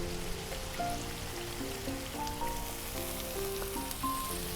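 Wine and tomato paste hitting onions and garlic in a hot cauldron for a Romanian wild boar stew, a steady close sizzle and crackle over a constant bed of background music.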